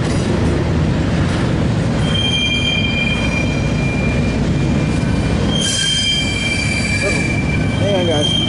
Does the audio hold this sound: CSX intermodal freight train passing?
yes